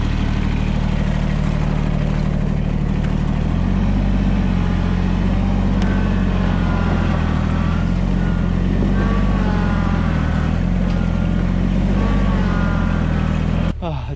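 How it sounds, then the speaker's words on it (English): A tractor engine runs steadily near at hand while the tractor is being moved during an effort to pull a stuck truck out, a low continuous drone that lifts slightly partway through before cutting off at the end. "Better move the tractor."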